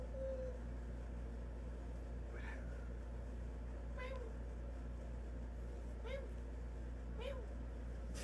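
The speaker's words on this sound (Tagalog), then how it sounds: "your cat looks so cute." A cat at a birthday gathering lets out about four short, faint meows spread across the stretch, heard under a steady background hum and people talking nearby.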